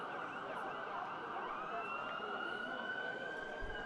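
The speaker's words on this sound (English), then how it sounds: "rather an ambulance on the way there" Ambulance siren wailing as it passes a soccer stadium on Vine Street during a high school boys' match, a sustained rising and falling electronic tone heard at moderate distance over a low background rumble.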